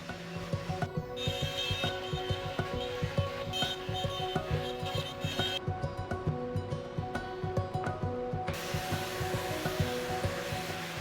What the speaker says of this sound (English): I'm gonna cut this out of MDF over on the CNC, and I modified that Shaun Boyd design